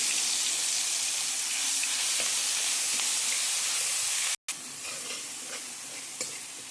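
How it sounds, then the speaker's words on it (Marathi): Mustard seeds and cumin sizzling in hot oil with chili paste in an Indian kitchen, a loud continuous frying hiss with faint crackles and a momentary cut partway through. "मोहरी टाकली जिरे वाटलेली मिरची"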